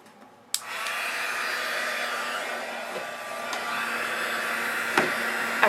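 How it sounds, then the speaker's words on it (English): Heat gun blowing steadily to melt white embossing powder on a stamped card, a continuous airy whoosh with a faint motor whine starting abruptly after a soft click and running close and loud to the end. "use my heat gun to emboss, or to melt the white embossing powder"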